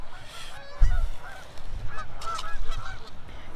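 Geese honk repeatedly beside a lake, a chorus of rough, nasal calls at moderate distance over low outdoor background rumble.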